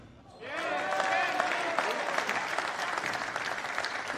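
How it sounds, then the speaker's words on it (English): Spectators at a squash match, the Optasia Championship, break into loud applause after a rally, dense clapping starting abruptly and continuing steadily. "The crowd absolutely loving what's happening at the moment."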